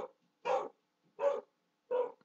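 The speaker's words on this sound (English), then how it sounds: "And the dog goes crazy for no damn reason." A dog barks three times, evenly spaced and fairly close, each bark short and sharp against a quiet background.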